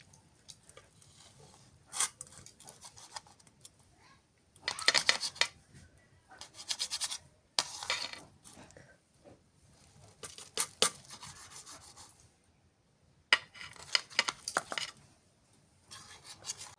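Radish being cut into pieces with a knife on a board in a home kitchen, in irregular bursts of short scraping, rasping chops with quiet pauses between them, close and fairly soft.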